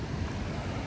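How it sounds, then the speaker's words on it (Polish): Churning meltwater of a glacial river at Nigardsbreen glacier in Norway, a steady close rushing roar with low turbulent rumble and light wind buffeting, continuous throughout with no voices. "Zobaczcie, jak tu się ta woda kotłuje."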